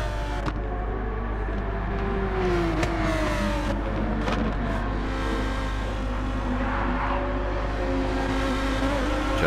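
Racing cars in Gran Turismo 7 at Catalunya howl past close together, with rising and falling engine revs, gear changes and brief sharp transients over a continuous loud roar.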